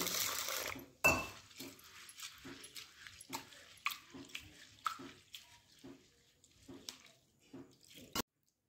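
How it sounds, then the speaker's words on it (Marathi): Water sloshes and splashes in a bowl of toor dal being washed, in a series of short bursts, with clinks of a pot, close up and fairly quiet. "आपण डाळ स्वच्छ धुवून घेणार आहोत 2 पाण्याने"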